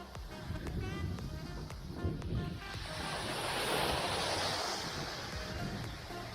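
Waves washing onto a UK beach with wind buffeting the microphone, a continuous rushing surf that swells louder midway and stays broad and steady.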